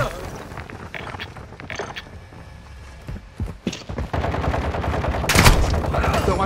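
Gunfire crackles through a Warzone 2.0 match, scattered shots building into louder rapid bursts toward the end, mixed with game noise and voices talking over it.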